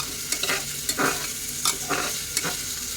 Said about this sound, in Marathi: आता टॅमॅटो चांगलं परतून घेऊ.